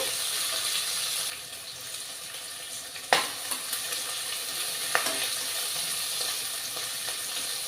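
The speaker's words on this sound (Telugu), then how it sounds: "నెక్స్ట్ పచ్చిమిర్చి ఇవి బాగా వేగాలి" Green chillies sizzle in a hot pan for vegetable biryani, a constant close frying hiss broken by a couple of sharp utensil clanks.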